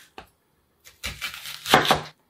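A kitchen knife slices an onion into rounds on a cutting board, with a faint first tap followed by a quick burst of close, crisp chopping strokes.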